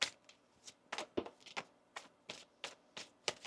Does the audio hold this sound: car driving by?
no